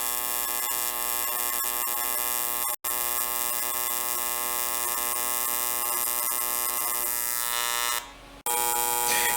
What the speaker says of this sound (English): This video illustrates the cleaning action generated on aluminum during a normal TIG welding arc.